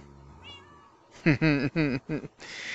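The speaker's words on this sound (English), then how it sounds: "He has got the noisiest cat named Chewy." A house cat meows repeatedly, four loud close calls in quick succession after a quieter opening, with some faint background noise.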